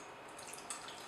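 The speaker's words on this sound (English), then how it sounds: "I'm also gonna add some water." Cooled boiled water poured onto dates for oil-free granola, a soft, close splashy trickle with faint drips over about a second, no talking.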